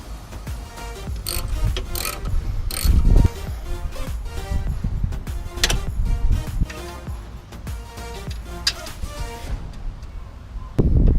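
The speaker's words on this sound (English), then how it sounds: "Next comes the part where we bolt in the transmission cooler." A ratchet clicks in quick bursts while bolting a transmission cooler into a 4th Gen 4Runner, with metallic taps and clanks between the runs of clicks, fairly close.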